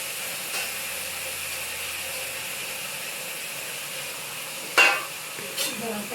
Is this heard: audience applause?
no